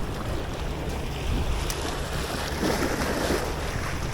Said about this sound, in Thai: ลมเริ่มมาแล้วนะนะนะแต่ว่าลมเบา